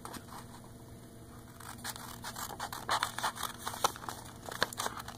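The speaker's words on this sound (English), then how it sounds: "when I'm cutting with the scissors, I'll make sure I make it straight" Scissors cutting through paper during an arts and crafts project, a run of crisp close snips and crinkles that grows busier and louder, with no talking.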